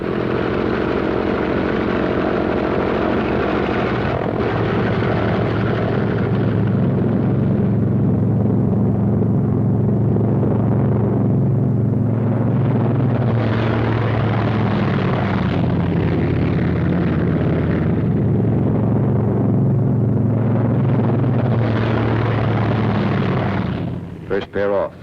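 Military aircraft taking off and taxiing, a loud continuous engine roar with low rumbling drone and shifting high whine that swells and fades in waves across the whole span, close and dominant, with a brief break near the end.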